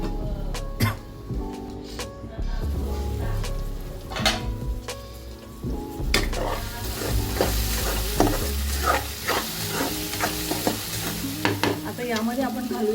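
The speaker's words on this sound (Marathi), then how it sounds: "कांदा शिजवून घेऊया." Onion sizzles in a pan while being stirred, steady frying hiss with repeated scraping spoon strokes, close and fairly loud, the sizzle growing brighter partway through.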